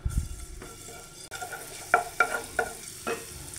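Food is stirred in a frying pan with a little oil, producing a soft sizzle and several sharp scraping clacks of the utensil against the pan, spaced at irregular intervals after a quieter start.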